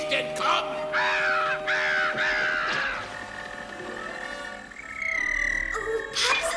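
A raven caws in a few harsh calls at the start of a German-dubbed Smurfs cartoon scene, set against a busy music and effects backdrop, followed by sustained tones.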